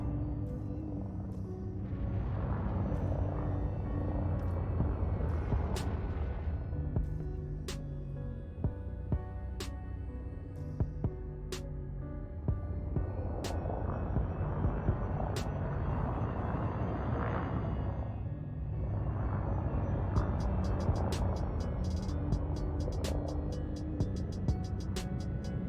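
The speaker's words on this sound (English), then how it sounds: "Landing gear deployed. Reverse thrusters." Spaceship reverse thrusters roaring during a landing in the Elite Dangerous video game, a continuous loud rumbling hiss that swells and fades in waves over half a minute, with scattered faint clicks and beeps.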